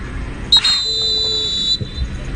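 A referee's whistle shrills once, loud and close, lasting about a second at a women's football league match between a high school and an academy side, with crowd and ground noise around it.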